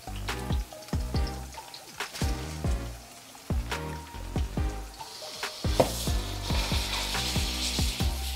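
Ground beef hitting a hot pan, with a dense burst of crackling sizzle and sharp spattering pops close by, followed by continued steady frying with no talk.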